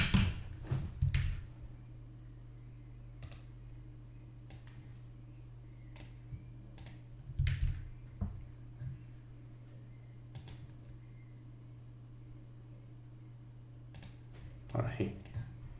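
Computer keyboard keys clicking in scattered short bursts at moderate distance over a steady low electrical hum, with a few louder clusters of taps near the start and end.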